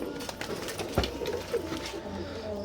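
Teddy pigeons of an imported bloodline coo softly in a loft, a low steady murmur running throughout with a brief sharper knock near the middle; no voices.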